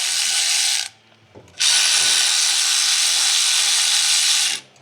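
A ratchet with a 10 mm socket rapidly clicks while undoing bolts on a 2013 Ford Fiesta 1.6 Sigma engine, in two loud bursts close up separated by a brief pause.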